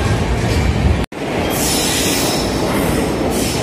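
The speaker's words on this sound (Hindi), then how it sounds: "ये हमारी ट्रेन नहीं आई है अभी" A train rumbles steadily past a railway station platform in India, loud and close, with continuous wheel and carriage noise and a brief break.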